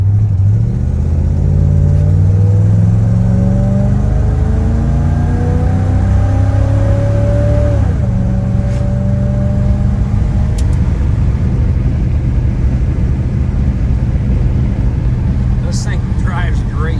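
A 1964 Chevy Impala with a 283 V8 drives along, its engine rumbling loudly and steadily, rising in pitch as it accelerates in smooth sweeps and then settling into a constant cruising drone, heard close from inside the car.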